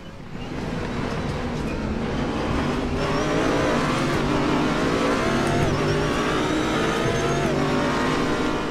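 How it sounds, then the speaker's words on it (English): A racing car engine in the RaceRoom Racing Experience video game roars and climbs in pitch, upshifting into second gear out of a hairpin, with a slight wavering transmission wobble in the tone, loud and close. "they've also added in transmission flex and wobble, or whatever you want to call it"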